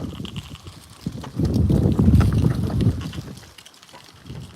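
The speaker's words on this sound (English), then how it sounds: "Yeah, it's a bit windy." Gusty wind blowing outdoors buffets the microphone with low rumbling noise, swelling louder in the middle before easing off, with no talk.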